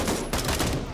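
Rapid bursts of automatic gunfire from a firefight in the tactical shooter Gray Zone Warfare, loud and close, sounding as a continuous rattling volley for about a second.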